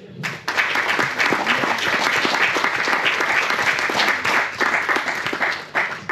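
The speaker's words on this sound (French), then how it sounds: "On applaudit Daddy Nkanga" A live audience at a stage show bursts into sustained applause for a performer, the clapping dense and steady, dipping briefly near the end, with faint voices mixed in.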